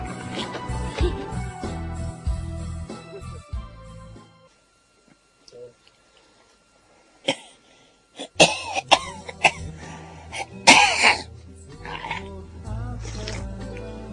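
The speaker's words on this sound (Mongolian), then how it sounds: "Одоо яагаад ханиалгаад байгаа юм бэ?" Several harsh coughs and throat clearing in a cluster, with people talking before and after.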